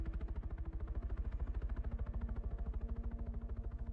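Helicopters flying in the Arma 3 military game: a steady, loud rotor chop with rapid regular pulses throughout, no voices.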